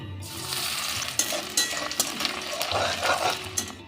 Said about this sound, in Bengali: রসুনটা ভাজা হয়ে গেছে দেখুন বেশ লাল একটা কালার এসে গেছে